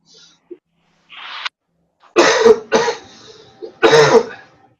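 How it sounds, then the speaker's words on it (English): A few short coughs and throat-clearing bursts, close and fairly loud, separated by quiet pauses, with a couple of softer breathy sounds between. "Hope my relaxation during the meditation doesn't bother you too much with coughing."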